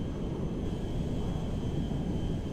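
Air Force One jet in GTA 5 climbs away after takeoff, a steady broadband engine roar filling the whole stretch with no pauses or talk.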